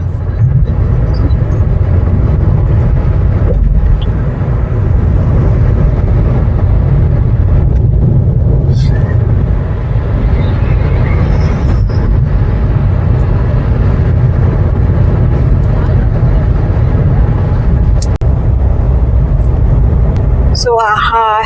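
Steady, loud low rumble of vehicles travelling the Samruddhi highway expressway, heard continuously throughout with a voice talking over it.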